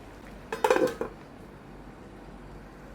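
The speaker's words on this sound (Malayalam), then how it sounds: "ഞാനൊന്ന് ഇളക്കി കൊടുത്തു, കണ്ടില്ലേ, ഇതുപോലൊക്കെ ഒന്ന് ഇളക്കി" A spoon scraping and clinking against a cooking pot while stirring mutton pulav rice, a short burst of metallic clatter near the start followed by quiet, with another brief knock at the end.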